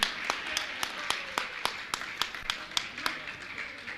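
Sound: audience clapping to honour a family

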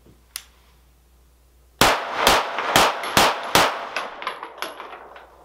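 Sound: five rapid fire shots from Springfield 9mm Ronin 1911 pistol

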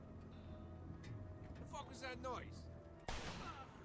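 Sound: gunshot in Mafia 2 video game

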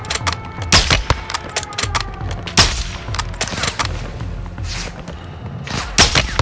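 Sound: gunfire in video game Call of Duty Modern Warfare II

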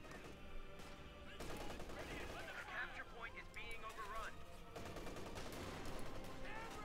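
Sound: MG42 machine gun fire in the video game Company of Heroes 2

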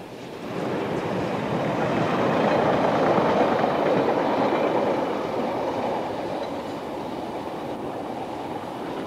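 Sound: Class 47 locomotive hauling a mixed freight train

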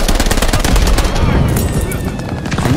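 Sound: STEN submachine gun firing in Call of Duty Vanguard video game

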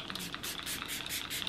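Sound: facial mist spray sprayed on the face

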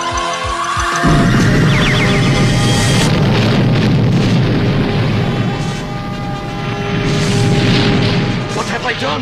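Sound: cartoon explosion destroying a castle

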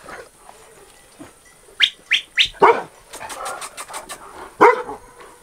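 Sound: Carpathian shepherd dog barking

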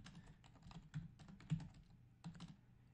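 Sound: typing a command on a computer keyboard

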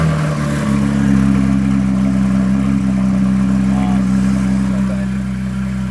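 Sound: Porsche engine starting and idling, original exhaust

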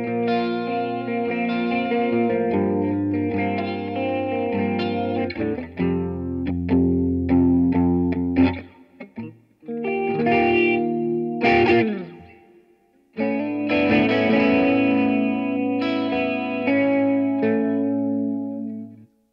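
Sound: chorus effect on Line 6 Catalyst CX 100 amp

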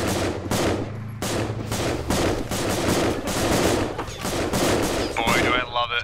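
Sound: gunfire in the video game Halo

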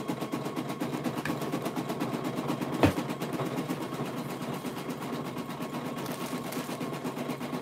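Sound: embroidery machine stitching a patch in a 6x9 hoop

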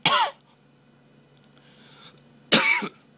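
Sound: cough

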